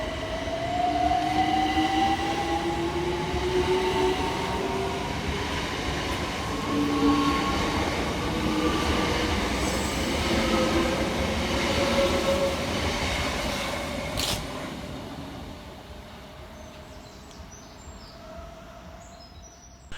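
A pair of coupled Southeastern Class 376 electric units, 376025 and 376024, runs through Eden Park station on the Hayes line, giving a loud sustained rumble with rising motor whine and wheel squeal that fades over the final seconds.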